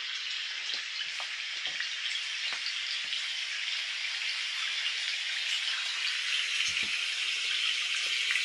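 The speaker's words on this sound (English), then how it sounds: "And that's a light rain." Light rain for tinnitus relief, a steady hiss of fine drops with faint scattered taps, even and continuous throughout, no voices.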